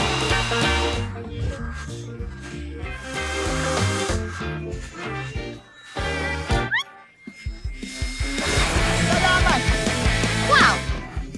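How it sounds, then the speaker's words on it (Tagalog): A blower dries pets in a mobile pet-rescue game, its airy whoosh rising in bursts over bright game music with cat meows and cartoon effects. "Ngayon, patuyuin natin lahat gamit ang blower."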